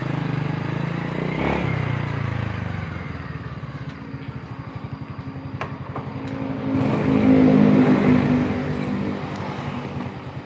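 A Honda Supra manual-gear motorcycle engine idles with a steady putter, then revs up and swells louder before settling back, heard close by with no talk.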